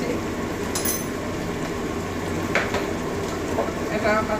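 Ginger-garlic paste frying in a pan for a bottle-gourd prawn curry gives a steady, close, crackling sizzle throughout, with a few faint scrapes of stirring.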